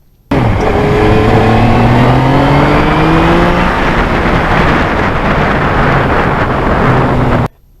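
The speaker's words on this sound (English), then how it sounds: "the MT-09 is a noisy bike for wind noise" Loud, constant wind roar buffets the microphone while riding a Yamaha MT-09 motorcycle at highway speed, with a faint engine drone underneath throughout.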